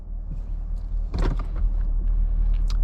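A 2018 Camaro SS 50th Anniversary Hot Wheels Edition in sport mode rumbles low and steady from inside the cabin, with a brief louder burst of engine and mechanical noise partway through.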